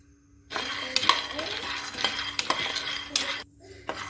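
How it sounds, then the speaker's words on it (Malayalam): Peanuts roast in a hot pan, rattling and scraping as they are stirred, with a light sizzle and sharp clicks of a spoon against the metal. The sound cuts in abruptly after a short silence. "ഒരു പാൻ ചൂടാക്കി അതിലേക്ക് കപ്പലണ്ടി ഇടുക."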